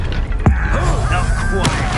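Spell impacts from Hogwarts Legacy combat land as a sharp thump and burst near the middle, with a second flash later, over dense game music, effects and voices.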